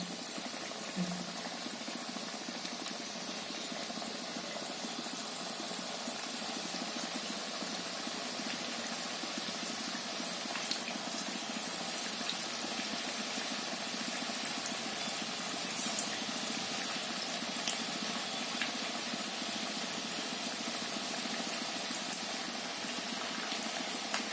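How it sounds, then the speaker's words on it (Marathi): Cabbage bhaji fritters fry in hot oil, a steady dense hiss and crackle of bubbling that holds evenly throughout, with no talking. "तेल तापायला ठेवलं होतं, असे एक एक करून मी भजी सोडते मी"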